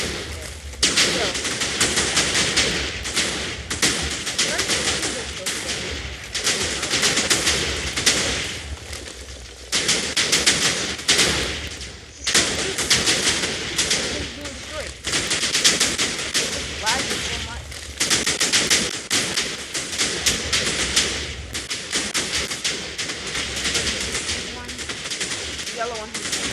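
Giant TNT explosions going off in rapid succession, a dense, continuous barrage of loud cracking blasts and rumbling that runs throughout, with a voice talking over it.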